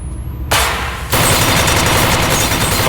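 Guns trade fire in Call of Duty Warzone in loud, rapid automatic bursts that keep going and thicken partway through, close and dense with no talk.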